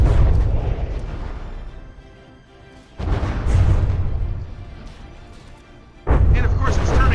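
Warship guns fire in the From the Depths naval battle game, three heavy booming blasts, each followed by a long decaying rumble, spaced about three seconds apart, loud and close, with a voice talking over them.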